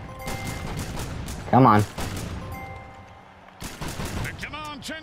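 Gunfire in the Mutant Football League video game: a short, loud burst of shots lasting about a quarter second, set amid busy game sounds with people talking over it.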